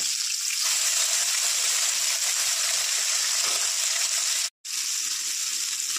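Bata fish frying in hot white cooking oil for a Bengali fish curry, a steady loud sizzle that runs throughout with one brief break, no talking.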